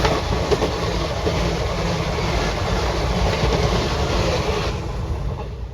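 A crowded passenger train travels along the track, a loud continuous rumble with rhythmic clickety-clack of wheels over rail joints, heard from inside the carriage.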